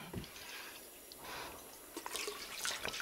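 Water collected from a toilet in The Long Dark, heard as faint liquid trickling and dripping sounds, quiet and brief, building slightly toward the end.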